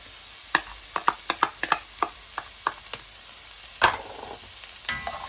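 Peppers and chilies stir-fry in a hot pan for a vegetable stir fry, a quiet sizzle under a series of sharp spatula scrapes and taps against the pan, spaced irregularly, with one louder clatter near the end.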